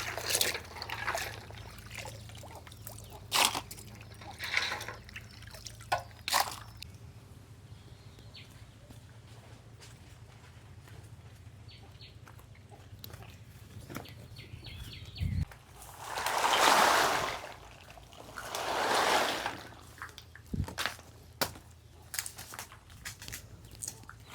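Tamarind being washed in water: soft intermittent trickles and small splashes, with two longer, louder sloshing swishes partway through, in an otherwise quiet setting.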